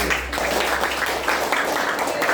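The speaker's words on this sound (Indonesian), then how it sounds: "Tepuk tangan untuk Nona" A classroom of students claps for a classmate named Nona, a short burst of brisk, fairly loud applause from a small group that lasts a couple of seconds.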